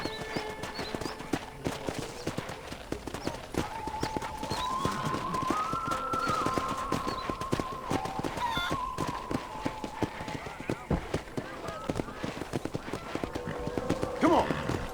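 Horse hooves clip-clop steadily for the whole stretch during a ranch tour in the video game Red Dead Redemption, a continuous rhythmic patter over soft tonal background game sound.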